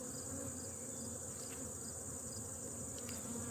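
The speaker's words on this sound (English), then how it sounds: "Carpenter bee's looking for a free meal." A carpenter bee buzzes around a beehive frame outdoors, a steady, faint insect drone that continues unbroken throughout the clip.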